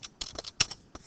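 A handful of light, irregular clicks from fingers typing on a computer keyboard, soft and nearby in a quiet room.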